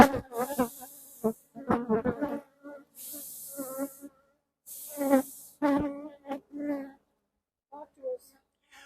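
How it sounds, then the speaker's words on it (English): Honeybees buzz faintly around an open hive during an October inspection, the hum sitting beneath close talk, with short bursts of breathy air blown onto a clump of bees on the frame. "I'm blowing on the bees because there was such a large clump right there"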